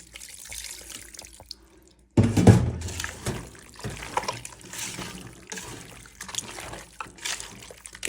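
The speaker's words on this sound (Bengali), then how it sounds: "একটু পানি দিয়ে দিব।" Water pours from a tap into a bowl of raw beef being mixed by hand with cumin, coriander and oil; a quiet start gives way to a loud, close, steady splashing stream that trickles on without talk.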